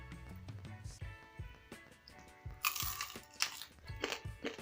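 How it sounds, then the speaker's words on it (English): Someone bites into fried chicken feet, giving a series of close, crisp crunches and crackles at an uneven chewing rhythm, with no talk over them. "The crunch."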